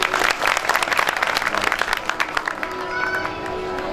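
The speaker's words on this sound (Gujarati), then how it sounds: "તાળીઓથી વધાવો લ્યો" An audience at a Gujarati Shiv bhajan performance breaks into dense, loud applause that thins and fades toward the end, with a faint sustained tone underneath.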